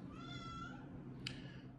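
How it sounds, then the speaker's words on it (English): A house cat meows insistently in a kitchen, a drawn-out rising-falling cry at moderate distance over steady background noise, followed by a short sharp clink. "We're going to go and let my cat outside. She's having a fit."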